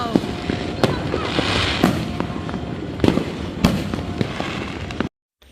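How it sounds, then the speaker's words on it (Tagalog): New Year fireworks bursting repeatedly, with sharp cracks and pops over a continuous crackling rumble, several loud bangs standing out before the noise cuts off abruptly. "Pagkatapos nga namin manood ng fireworks"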